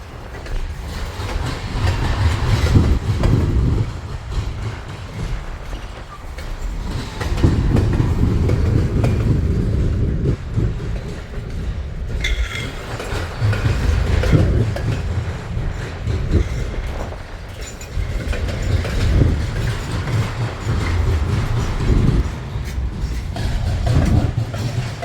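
A slow freight train rolls past with cars loaded with wooden railroad ties, a continuous loud rumble with rhythmic clickety-clack of wheels over rail joints and occasional metallic squeals, close by and without talk.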